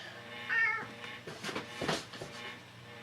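A single cat meow rises briefly near the start, followed by faint rustling and soft indoor movement noises.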